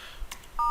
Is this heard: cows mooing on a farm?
no